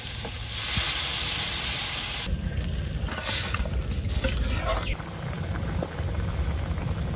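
Chopped onion, garlic, chili powder and turmeric fry in a hot pan with a steady, close sizzle that swells and eases in places, while a voice talks over it.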